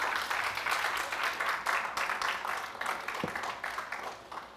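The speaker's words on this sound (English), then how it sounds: "Let's get a choir another round of applause" Church congregation applauding the choir, a lively, continuous burst of clapping with individual claps standing out, easing off toward the end, with a brief low thump partway through.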